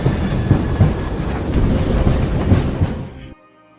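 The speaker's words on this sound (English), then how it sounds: "The movie opens on a Turkish train" Loud rumbling train rolling on rails in a movie scene set on a Turkish train, with rhythmic clickety-clack wheel beats throughout before the sound cuts off abruptly near the end.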